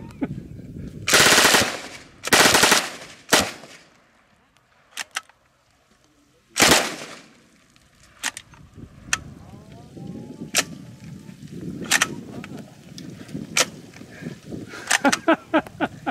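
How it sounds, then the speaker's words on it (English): An old open-bolt PPSh submachine gun fires into a barrel holding fish fillets: two long loud bursts, a shorter one, then another burst after a pause, followed by scattered sharp single cracks over background noise. "Open bolt on the old PPSH."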